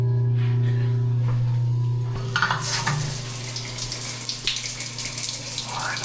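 Hot shower water in an RV park bathroom, starting with a low hum, then water splashing and pattering close by and irregularly once the flow hits.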